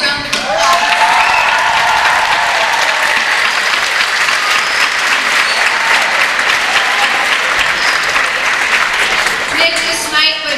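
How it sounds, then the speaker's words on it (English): A large audience at a class of 2015 graduation gives a big, sustained round of applause for the sound booth crew. The clapping is dense and loud throughout, with a voice briefly heard near the start and again near the end. "give them a big round of applause"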